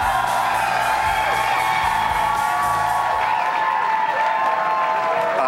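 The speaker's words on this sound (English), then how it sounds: "I did deliberately wait till after the applause." Convention crowd at the Democratic National Convention applauding and cheering, a loud sustained roar with whoops and yells that fades toward the end.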